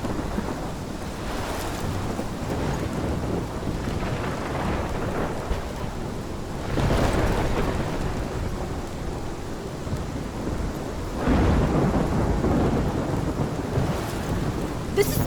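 A heavy thunderstorm with steady rain rolls through the video game Life is Strange. Dense rainfall hisses throughout, and deep rumbling thunder swells twice, loud and close.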